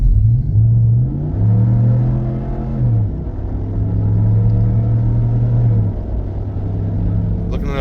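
A Ram 1500 with a Flowmaster dual mode muffler in closed mode accelerates through gear shifts at around 4,000 RPM, its low exhaust rumble droning steadily and dropping in pitch at each shift, heard from inside the cabin.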